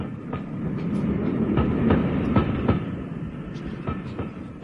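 A radio drama sound effect of a train arriving at a small seaside town station, a steady low rumble with rhythmic clickety-clack wheel beats on the rails, moderately loud throughout.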